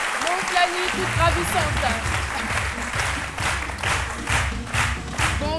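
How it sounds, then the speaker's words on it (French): A television studio audience applauds a guest introduced on a midday talk show. Steady, dense clapping runs throughout while a host speaks over it. "que je vous demande d'applaudir"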